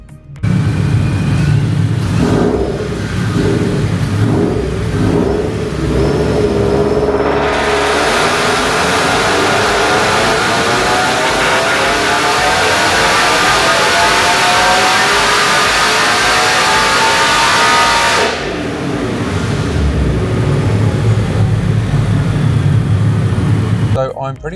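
A supercharged Toyota FT86 on E85 revs on a dyno, climbing from a lumpy idle into a long, loud sweep up through the rev range with supercharger whine, then dropping back to idle.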